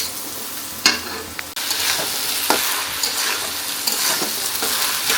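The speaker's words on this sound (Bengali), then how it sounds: "এইরকম সর্বশেষ এই কুমড়ো ভাজি হলেই হয়ে যাবে।" Pumpkin bhaji sizzles and crackles steadily in a hot pan during festive Pohela Boishakh cooking, with a few sharper scraping stirs breaking through the continuous frying hiss.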